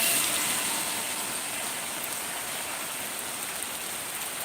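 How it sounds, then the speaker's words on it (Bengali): Heavy downpour of rain, a dense, steady, loud hiss of pouring water that continues unbroken with no voices. "আবার মুসলধারে বৃষ্টি নামতেছে"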